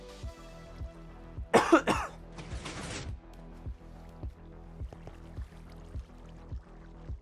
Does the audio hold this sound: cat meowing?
no